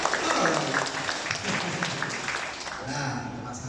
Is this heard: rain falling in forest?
no